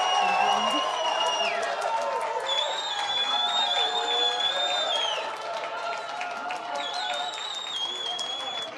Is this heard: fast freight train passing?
no